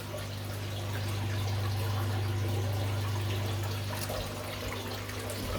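Water pours steadily into a fish tank during a water change in a fish room, a continuous close rush and trickle over a low steady hum, with no voices.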